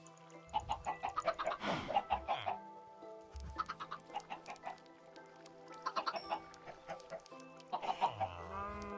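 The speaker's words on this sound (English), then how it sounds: "So if we can get these chickens to breed" Chickens clucking in the farming video game Weaves of Fate, repeated bursts of rhythmic clucks and squawks over a soft musical background, fairly quiet.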